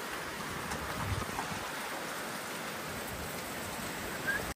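Heavy rain pours steadily during a motorbike ride from Ilam toward Upper Mustang in Nepal, a dense, constant hiss close to the mic with no talk, broken only by a few brief louder splashes.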